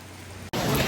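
Steady rain hisses around a Caribbean boat trip, then jumps suddenly louder after a brief cut, a dense close wash of drops with no talk.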